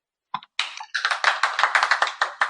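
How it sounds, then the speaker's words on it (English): A small online audience at a lecture on early childhood gives a short round of applause, a sparse patter of close individual claps, a couple of hesitant ones first and then a quick steady run, with no talk. "if everyone could give a round of applause"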